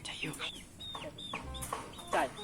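A chicken clucks repeatedly nearby in a rural Sundanese village, its short, choppy calls coming in an uneven rhythm while people seem to talk faintly in the background.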